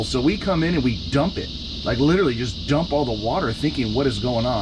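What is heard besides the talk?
cicadas buzzing outside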